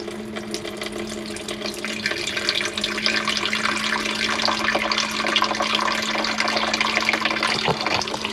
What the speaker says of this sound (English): What I do is I open the tap like that and let all the air through.